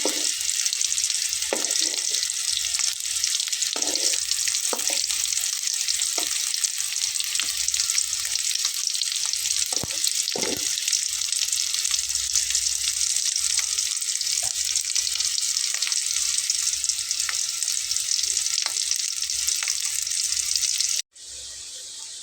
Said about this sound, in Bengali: তো এগুলোকে আমি তুলে নেব এবং একইভাবে অন্যগুলোকে আমি ভেজে নেব।